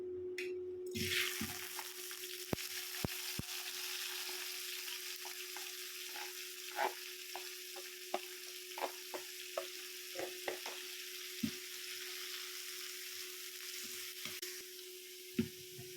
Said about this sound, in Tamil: வெட்டி வச்சிருந்த வெங்காயத்தை சேர்த்துருவோம்